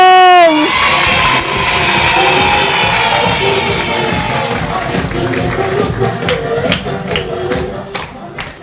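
An audience at Mae Rim Wittayakhom School welcomes a former student with a dense wash of clapping and cheering. It follows a short spoken introduction and continues steadily, with scattered louder claps toward the end.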